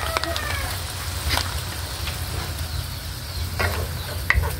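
Adobong sitaw frying in a pan with soy sauce and fish sauce, a steady sizzle running throughout while a utensil stirs with a few scraping strokes, close and moderately loud.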